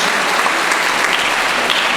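A loud, dense burst of audience applause for mayoral candidates at a town hall, steady clapping from a large crowd filling the whole short stretch.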